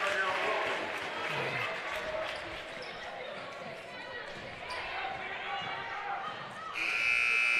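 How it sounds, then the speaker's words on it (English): An end-of-quarter buzzer blares near the end at a high school girls' basketball game, a steady electronic tone cutting over crowd noise and a commentator's voice that runs throughout. "And at the buzzer, Bradley couldn't get it to go."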